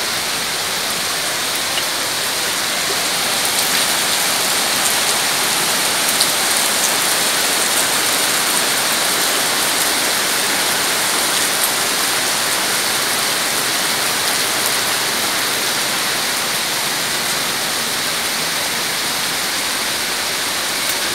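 Heavy rain pouring steadily over a flooded area, a loud continuous wash of hiss and rushing water with no pauses throughout, no voices present.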